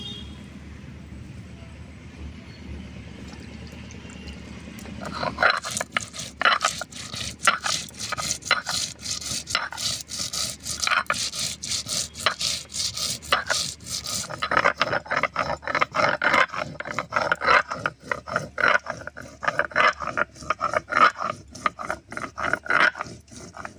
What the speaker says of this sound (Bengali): গোটা জিরে আর গোটা ধনে আমি একসঙ্গে করে নিচ্ছি, আমি একসঙ্গেই বেটে নেব।